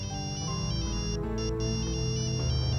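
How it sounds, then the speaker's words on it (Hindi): Phone ringtone from a call coming in from the office, a repeating electronic melody that plays continuously and fairly loud over a dense background of soap-opera music, with no talking. "किसका फोन"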